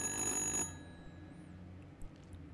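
A telephone rings in the horror game Little Hope, a bright electronic bell burst for about half a second that cuts off abruptly, leaving a quiet, faintly rumbling room.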